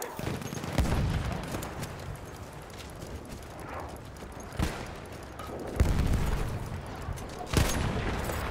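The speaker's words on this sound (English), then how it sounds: "1 shot, 1 kill. With a shotgun." Shotgun blasts in the Battlefield video game, a few loud booming shots spaced seconds apart over a dense, noisy battlefield backdrop, each a sharp broadband crack with a low thump.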